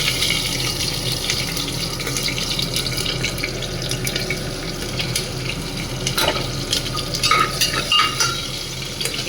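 Panch phoron, green chillies and a dried red chilli frying in oil in a pan, a continuous crackling sizzle with scraping stirs and utensil clinks, close up and fairly loud.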